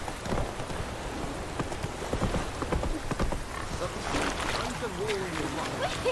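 Geralt's horse Roach in The Witcher 3 gallops with a quick, steady clatter of hooves, a damp wash of ambient noise behind it, while a man calls out over the ride.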